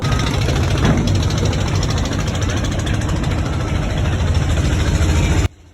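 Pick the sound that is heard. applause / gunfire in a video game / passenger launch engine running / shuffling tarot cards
passenger launch engine running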